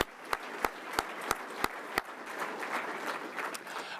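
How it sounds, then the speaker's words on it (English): An audience at a keynote address applauds, with a few sharp, distinct claps at first, then a steady, moderate patter of clapping from a crowd in a hall, fairly faint overall. "Let's give him a round of applause if you don't mind doing that."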